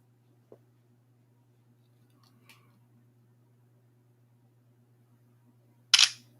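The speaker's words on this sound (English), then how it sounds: "That's a really fast shutter time, folks." A OnePlus Nord N200 5G phone camera fires its shutter while taking a portrait, a single short, sharp click near the end, close and fairly loud, after a faint tap and a low steady hum.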